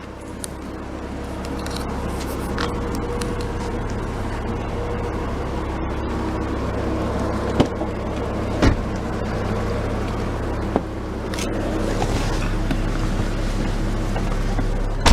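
A 2004 Porsche Boxster with a mid-mounted engine and manual gearbox drives along on a test drive, its steady engine drone and road rumble continuous throughout, with a few brief clicks and knocks from the cabin.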